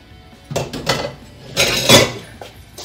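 A metal lid being worked off a glass canning jar of home-made chili, with a few close clinking and scraping knocks of metal against glass, no talking.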